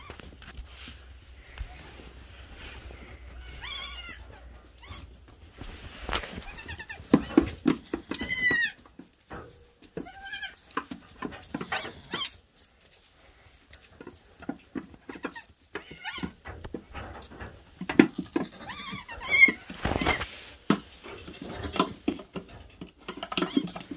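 Baby Nigerian dwarf goats bleat in a series of high, wavering cries, some close and loud, scattered among quieter rustling and brief human voices.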